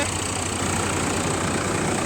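Sonalika 745 tractor engine idling with no load, a steady low diesel rumble that stays even and close throughout, with no voices over it.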